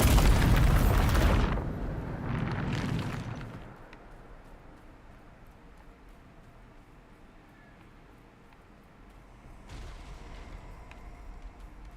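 Bombarda spell explosions in the video game Hogwarts Legacy, two loud booming blasts at the start fading into quiet rumble, with a softer burst near the end.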